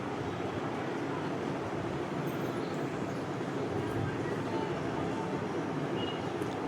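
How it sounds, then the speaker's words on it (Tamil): A mixer grinder running at first speed, grinding chicken samosa filling, produces a loud, unbroken whirring roar that holds steady from start to finish. "நான் ஃபஸ்ட்டு ஸ்பீடில் தாங்க அரைக்கிறேன்"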